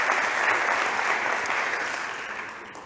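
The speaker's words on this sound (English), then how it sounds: "Big applause for Ali." A crowd at a startup competition stage event applauds a presenter, dense and steady clapping that slowly fades toward the end.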